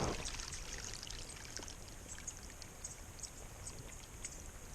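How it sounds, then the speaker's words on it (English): Water runs down into the stones of a French drain. A faint, steady outdoor trickle and pour patters without pause, with no voices. "we've had water, which is good water, running down into the stones"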